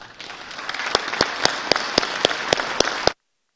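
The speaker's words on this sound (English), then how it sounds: "give them a very warm applause and welcome and gratitude for their courage" Legislators in the Missouri House chamber give a warm round of applause to honoured guests. The clapping is steady and fairly close, with distinct sharp claps standing out in a regular rhythm, and it cuts off abruptly after about three seconds.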